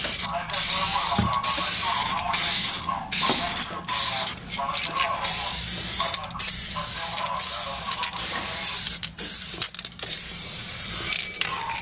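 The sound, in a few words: spraying Spectral 395 epoxy primer over car body seam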